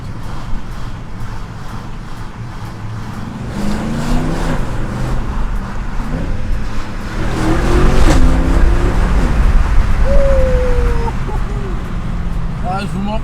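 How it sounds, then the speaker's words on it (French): A 487-horsepower Mercedes C63 AMG Performance Pack engine hums and rises through several gear changes, each shift followed by a climbing pitch, fairly close, with a voice talking over it. "ce ronronnement là quand tu passes les rapports"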